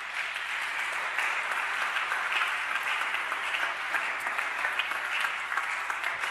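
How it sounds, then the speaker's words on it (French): A church congregation at a French-language service applauds, a broad, even roar of many hands clapping that holds steady from start to finish, slightly distant and without talk. "Là, on a applaudi"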